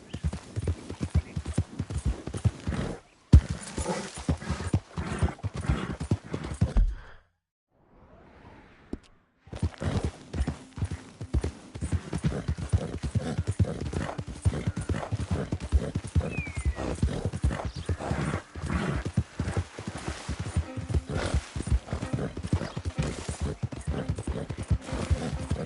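Horse hooves gallop in the Red Dead Redemption 2 video game, a loud, fast, continuous clip-clop rhythm that drops out briefly midway before resuming steadily to the end.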